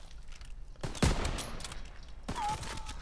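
A sniper rifle fires in a video game, a single loud close blast followed by a second shot and a fading echo, over faint background game noise.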